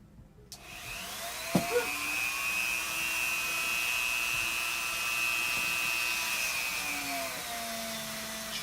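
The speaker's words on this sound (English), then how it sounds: "I'm gonna do another quick little Dremel moment." A Dremel rotary tool whirs up after a short quiet start and runs with a steady high whine for several seconds, close and continuous, used while painting a miniature.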